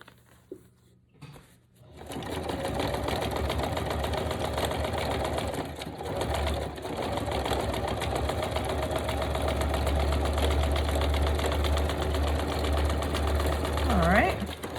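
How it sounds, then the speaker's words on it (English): A sewing machine stitches a fabric cover for a junk journal, starting after a short quiet moment and then running as a steady, close mechanical whir with a brief pause midway before continuing on. "Let's see if I can sew this side."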